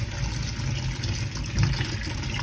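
Water running and splashing into a kitchen sink as washed items are set aside to drain, a steady low wash of trickling liquid that swells briefly midway, with no talking.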